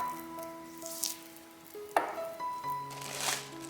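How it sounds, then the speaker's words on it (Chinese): Flour, yeast and water being stirred into a batter for a poolish starter for hot cross buns: faint, intermittent scraping and sloshing strokes with a few sharper bursts, under quiet tonal background music. "面粉里倒入酵母和常温水， 搅拌成面糊"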